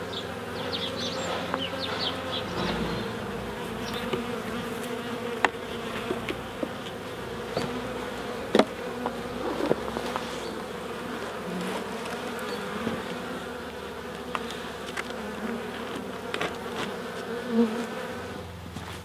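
Honey bees hum and buzz steadily around a hive, a dense droning swarm close by, with occasional brief knocks and rustles but no voices.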